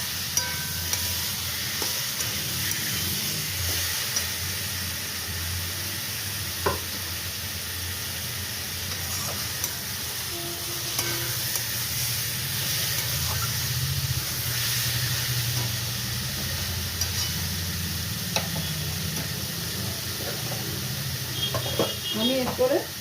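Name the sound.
fried potatoes stirred into sizzling masala in a pan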